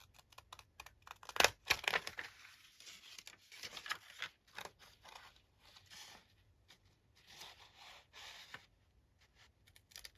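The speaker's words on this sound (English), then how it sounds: "And then come in with my scissors" Scissors snipping around a paper faux stamp at a craft table, leaving a small border; quick close clicks and crisp cuts in short bursts, fairly quiet with no talking.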